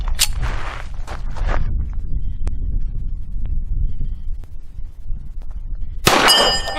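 A single one-handed shot from a Thompson Auto-Ordnance 1911 .45 pistol, one sharp loud crack near the end after a quiet stretch of outdoor background noise.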